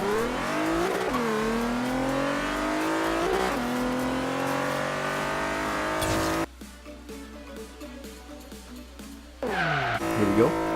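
A Nissan Z33 makes a hard 1/8 mile acceleration run, its engine climbing in loud rising pitch through gear changes with tire noise. It drops abruptly into a quieter stretch before the revving returns near the end.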